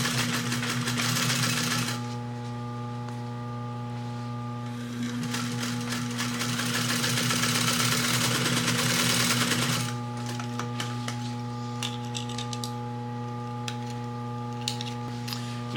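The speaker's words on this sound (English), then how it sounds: "just sew these two pieces together, sewing a 1/2 inch in" A sewing machine joins two cushion boxing pieces with a half-inch seam, running in rapid continuous stitching bursts of varying length with brief pauses, close and clear with no talk.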